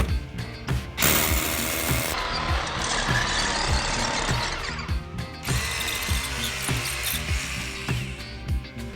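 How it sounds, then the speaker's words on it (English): A power drill boring a pilot hole during a radon system installation in bad conditions, a loud, continuous grinding drone with ratcheting, rhythmic knocks, close and steady throughout. "We're going to drill a pilot hole, and well, I'll drill it and let you know what I feel and why."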